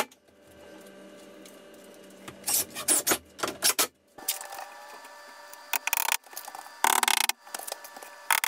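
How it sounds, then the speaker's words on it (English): Drywall being cut during a home renovation: scattered bursts of rough rasping and scraping, loud and close, separated by quieter stretches with a faint steady background hum. "we're gonna go cut some drywall"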